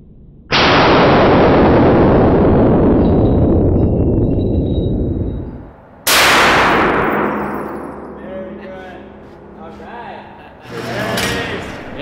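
A large-calibre gun fires twice at an outdoor Las Vegas shooting range: two loud, close blasts about six seconds apart, each with a long rolling echo, then voices talking as the second report fades.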